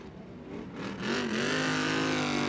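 Ultra4 off-road race cars race at the Crandon world championship, with an engine note that rises in pitch as a car accelerates and swells louder toward the end, heard at a distance without talk.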